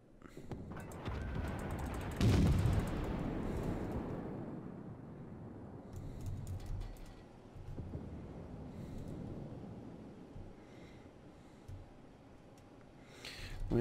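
Pensacola cruiser guns in World of Warships, one heavy booming salvo early on that rolls away into a long fading rumble, with faint ticks and wind-like noise after it.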